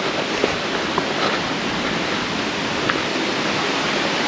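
A mountain river rushes over a rocky rubble field of fallen stones, producing a steady broadband roar of churning water, close and constant, with a few faint clicks but no voices.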